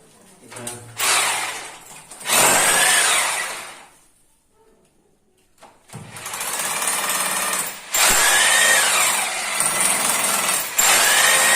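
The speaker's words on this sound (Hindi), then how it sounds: "अब यहाँ ड्रिल करेंगे।" A power drill bores into a bathroom wall to mount an electric water heater, loud and close in two long bursts separated by a short pause, with harsh grinding hammering throughout.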